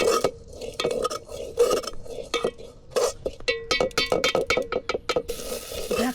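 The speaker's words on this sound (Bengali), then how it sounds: "চাউল ঢেলে দিচ্ছি" Dry rice grains poured into a small toy cooking pot during kitchen pretend play, giving a run of close rattling clinks and scattering taps with a few sharper metallic knocks, no voices.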